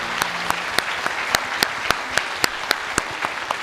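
A church congregation applauds during a New Year worship service, a sustained wash of many clapping hands with sharp claps standing out at a roughly even pace, close and moderately loud.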